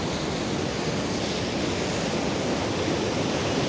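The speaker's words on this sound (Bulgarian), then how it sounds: "А ето там долу е това водопадче Зелени вир." Small waterfall Zeleni vir at the bottom of a gorge, a steady, loud broadband rush of falling water that holds even throughout without pause or voices.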